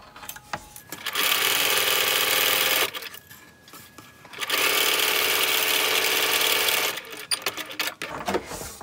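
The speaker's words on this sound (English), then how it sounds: "we are going to sew 1/4 inch going all the way down" A sewing machine stitches a 1/4 inch seam down quilt strips for a log cabin block. Two long, loud, steady runs of whirring motor are separated by a brief pause, close up and with no talking.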